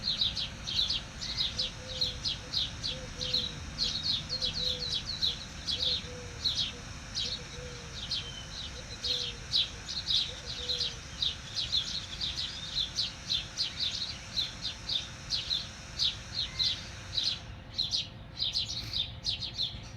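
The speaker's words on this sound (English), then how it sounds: "I do like having the birds going because it's almost like having a live studio audience" Birds chirp and tweet in steady repeated bursts outdoors at sunrise in Arizona, a busy chorus running throughout over a low ambient rumble.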